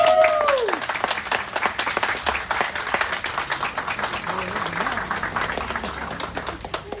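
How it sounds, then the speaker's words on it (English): Wedding guests applaud after the couple's kiss, dense steady clapping filling the room for the whole stretch, with a whoop near the start and voices mixed into the crowd noise. "And I ask you to share your love by sharing a kiss. And a round of applause."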